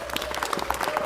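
Dense, steady applause from a crowd at a Los Angeles city council meeting, many hands clapping at once throughout a brief burst.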